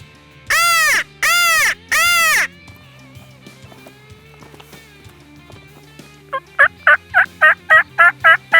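Wild turkeys call in the Texas Hill Country during a hunt: three drawn-out loud calls up close, a pause, then a rapid run of short, clipped calls in quick rhythm.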